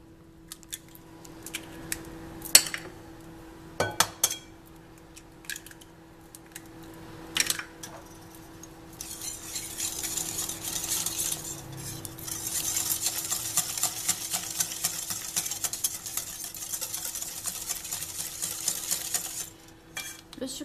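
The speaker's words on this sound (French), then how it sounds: "Et donc là on va mélanger le sucre" Sugar and two eggs are mixed for a pear and rum cake: a few sharp utensil clinks against the bowl, then a steady, fairly close scraping and whisking rustle that runs continuously to the end, with no talking.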